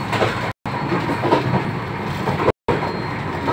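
A Vande Bharat train travelling from Jammu to Delhi heard from inside the carriage: a steady rumbling rolling noise with faint wheel clatter, broken by two brief silent gaps.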